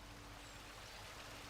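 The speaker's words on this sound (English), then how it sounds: "Can definitely hear a trickle of water." A trickling stream of running water, heard as a steady, faint wash of sound with no breaks and no voices.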